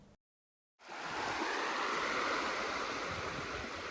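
Gentle surf on a calm, windless beach as the tide comes in, with a steady soft wash of waves rising abruptly after a brief silence and holding close and even.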